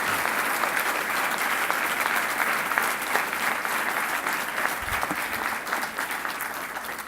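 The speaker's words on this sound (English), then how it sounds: "So let's give Adam a big round of applause." Sustained, dense audience applause fills a room at an achievement benefit dinner for SEO Scholars in San Francisco, steady and fairly loud throughout with no speech over it.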